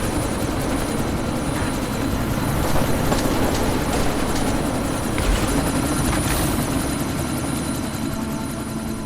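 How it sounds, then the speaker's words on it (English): A loud, steady helicopter rotor drone in the game Deus Ex: Mankind Divided, with a rumbling, whooshing texture, continuous throughout with no talking. "you need to disable that chopper"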